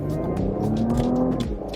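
A 2020 Porsche Cayenne E-Hybrid accelerating hard with its sport response boost engaged, the engine note rising steadily in pitch as it pulls, loud and close from inside the car.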